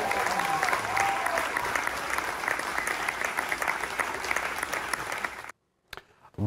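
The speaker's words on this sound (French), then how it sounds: "Les applaudissements ont donc facilement retenti dans la salle." Dense, sustained applause from a concert audience filling the hall at the cultural centre in Montier-en-Der, loud and steady for about five seconds before cutting off abruptly, with a few faint bits after.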